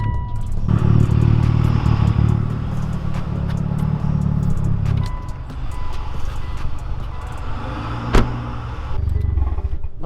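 Several Mitsubishi Evo cars idling together at a car meet, a steady close rumble that drops away around the middle as engines are shut off, with clicks, clatter and a sharp knock following, and faint talk.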